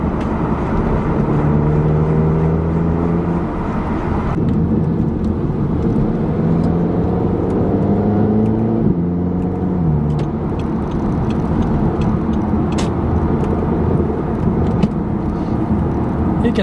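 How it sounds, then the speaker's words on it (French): A car drives slowly along a town road past a gendarmerie, its steady engine hum and tyre rumble close and continuous throughout, with no talk. "On va rouler doucement, on passe à côté de la gendarmerie"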